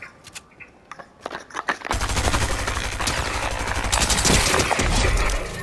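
Pistol fire in the Fortnite Chapter 3 Season 2 video game, beginning as a few scattered sharp shots and then becoming a dense, continuous barrage of loud gunfire.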